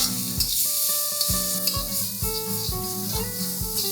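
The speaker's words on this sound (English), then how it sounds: "Now we'll add a tablespoon of ginger paste, a tablespoon of garlic paste, and now we'll saute this for a minute." Ginger paste and garlic paste sautéing in a pan give a steady, close sizzling hiss for several seconds, sitting under background music with melodic tones.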